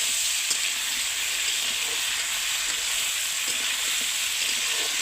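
Chicken pieces fry in a pan with a steady, close sizzle of hot oil running evenly throughout, with no talking.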